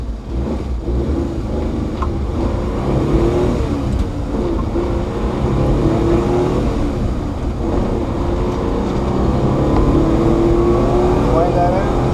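A small truck with a manual gearbox drives along, its engine droning steadily and loudly close by as it runs through the gears, with speech over the engine noise.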